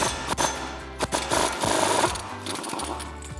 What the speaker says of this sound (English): Grab your 1/2 inch impact and a 36 millimeter socket and take this nut off.